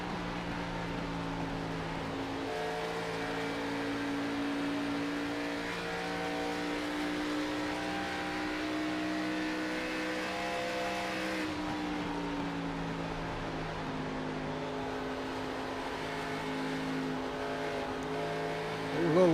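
A race car engine drones steadily in a racing video game at Pocono Raceway, holding a constant pitch in one gear, then dipping briefly as the driver lifts before climbing again, continuous and moderately loud with no talk.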